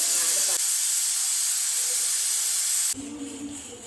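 A pressure cooker cooking chana biryani hisses steam in a loud, steady rush that runs for about three seconds and then drops to a softer hiss.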